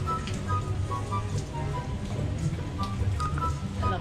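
Steady rain falling outdoors at a Manila resort garden, a soft continuous wash of drops heard from indoors, with faint talk in the background.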